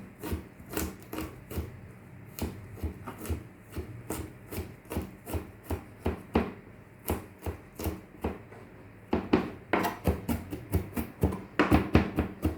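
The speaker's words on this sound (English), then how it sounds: "Now let's chop the garlic." A knife chops garlic on a cutting board in quick, crisp, regular strikes, close and fairly quiet, speeding into a faster flurry near the end with no talking.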